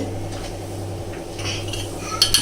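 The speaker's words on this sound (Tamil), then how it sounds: "ஆப்பச்சட்டி எடுத்து வச்சுருக்கேன்." A cast iron appam pan clanks onto a heated stove, with a low steady hum underneath and a few sharp metallic knocks near the end.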